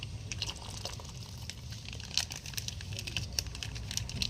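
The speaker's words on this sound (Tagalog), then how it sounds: "So habang kumukulo, lagyan na natin tong tonkatsu." Tonkatsu broth pouring into a pot of boiling ramen, with a soft liquid splash and bubbling simmer alongside scattered crackling drips, fairly quiet and close.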